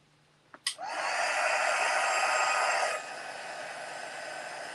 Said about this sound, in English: by drying this with the heat tool, I've sort of bolstered the colour up a little bit and given it a little bit of a shine